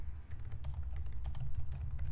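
Rapid typing on a computer keyboard, a steady clatter of close, crisp key presses over a low hum, with no talking.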